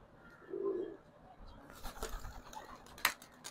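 Pigeons in a loft coo once, softly and close, and then light clattering and fluttering follow against a quiet background.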